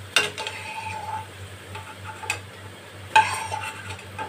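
Deep-fried bitter gourd slices lifted out of hot oil in a pan, with a few sharp metal scrapes and clinks of the spatula over a soft ongoing sizzle, close by and without talk.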